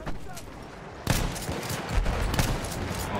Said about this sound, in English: I love seeing all the snipers up here just taking shots